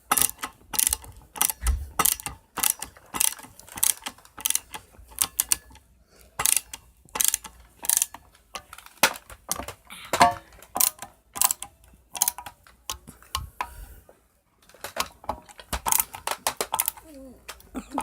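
Screws on a saw blade battle axe are tightened down with repeated clicking, ratcheting bursts, irregular and fairly close, separated by short pauses and a few quieter gaps.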